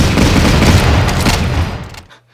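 Machine gun fire from a Battle Academy Market Garden war game, a loud, dense burst of rapid shots running steadily for about two seconds before cutting off.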